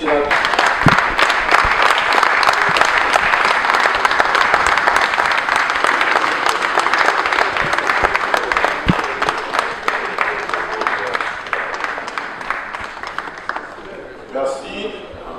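A hall audience applauds deputies and senators at a food security and nutrition awareness day in the DR Congo, sustained loud clapping that thins out toward the end, with a voice over it.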